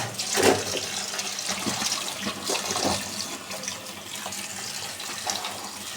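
Running tap water pours steadily as fish are washed in a home kitchen, a continuous close splashing rush with small shifts as the fish are moved under the stream.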